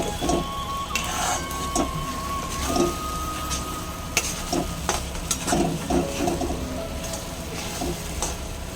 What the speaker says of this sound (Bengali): দিয়ে পোস্তটা ভেজে নিই ভালো করে